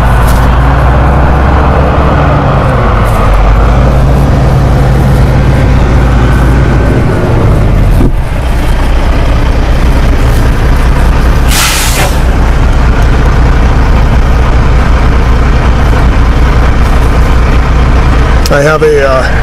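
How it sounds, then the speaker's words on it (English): A tanker tractor-trailer truck sits idling on the road close by, a steady low diesel rumble running throughout with a brief air-brake hiss near the end, under a person talking. "some kind of tanker, it stopped right by me."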